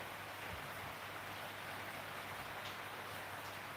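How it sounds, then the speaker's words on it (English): Steady rain pours down outside, a soft, even wash of broadband hiss that holds at a constant low level with no talk. "It's pouring down with rain outside again."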